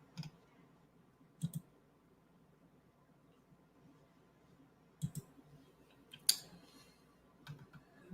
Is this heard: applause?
no